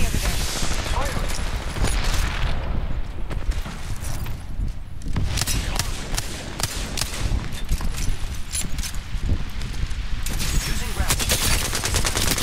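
Rapid automatic gunfire in the Apex Legends video game, loud sustained bursts and fusillades with brief gaps, while a voice speaks over the shooting.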